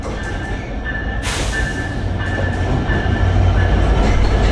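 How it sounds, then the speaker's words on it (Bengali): The Drutojan Express pulls into a station at Dinajpur, a loud continuous rumble of rolling railcars with a sharp burst of clatter early on and a building roar. "তো রাইট নাও আমাদের ট্রেনটা রাইট টাইমেই স্টেশনে প্রবেশ করছে।"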